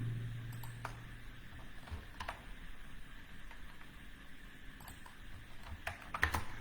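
Typing on a computer keyboard during an HTML web design lesson, with faint, scattered key clicks in irregular bursts over a quiet background.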